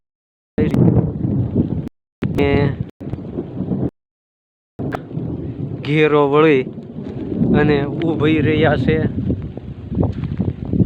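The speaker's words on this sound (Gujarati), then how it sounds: "ભડાકા સાથે વરસાદનો પ્રારંભ થઈ" Rain and low thunder rumble steadily beneath someone talking, with a few brief pauses in the speech.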